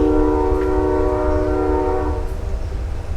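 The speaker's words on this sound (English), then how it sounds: "and of course, a train. Every 15 minutes," A train passes close to a farm and sounds a loud, sustained multi-tone horn that fades after about two seconds, leaving rumbling wheels over a heavy low roar.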